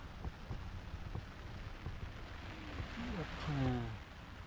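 Steady rain falls outdoors at a remote camping and fishing spot in Okinawa during the rainy season, a soft broadband hiss with scattered drops beneath someone speaking.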